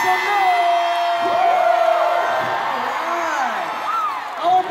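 A large concert crowd at Madison Square Garden cheers, whoops and yells continuously, with high excited voices and screams forming a loud sustained roar throughout.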